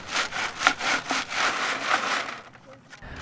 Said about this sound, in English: We run that soil through a sifter that's just a 1/4 inch steel screen.